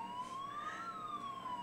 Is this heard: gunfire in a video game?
no